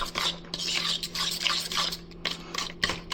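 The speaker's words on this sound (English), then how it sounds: "Just kind of a nice mash and stir at the same time." Ripe bananas being mashed and stirred with a spoon in a bowl, giving a steady run of close, soft scraping and clinking strokes with brief pauses, no talking.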